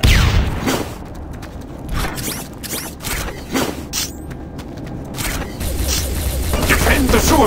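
Grenade blast and scattered gunfire in the multiplayer shooter Enemy Territory: Quake Wars, with several sharp bursts and booms over a busy battle din, with shouted voices.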